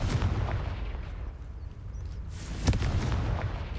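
Booming blasts from the Confringo spell in Hogwarts Legacy ring out over a rumbling game soundscape, with a sharp, loud burst near the end.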